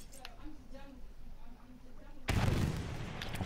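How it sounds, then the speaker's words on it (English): In Battlefield 1, an anti-tank grenade lands and explodes with a sudden loud blast about two seconds in. Faint battlefield noise comes before it, and the explosion's rumble lingers afterward. "AT grenades. I'm gonna lob this over the bridge."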